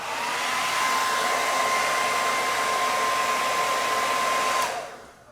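Handheld hair dryer running steadily at close range while drying curly hair at the roots, a loud continuous whoosh with a thin whine that cuts off near the end.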